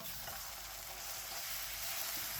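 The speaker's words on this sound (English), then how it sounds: "Now we're gonna mix all that in" Sausages with sautéed vegetables and ketchup are stirred in a frying pan, a dense, even sizzle with soft scraping strokes, close up and without speech.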